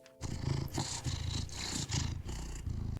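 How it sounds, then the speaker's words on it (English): A cat in the video game Cabernet purrs close and steady, its low rumbling pulses repeating in a regular rhythm for several seconds with no talk over it. "Just listen to that purr."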